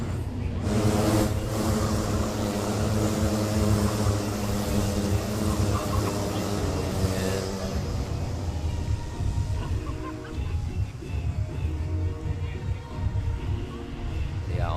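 Engines of the Micromax-class field at the 2019 Asia Max Challenge, Round 5, running their warm-up lap with 17 on the grid: a loud, steady, droning roar with rising and falling pitch, under a commentator's voice.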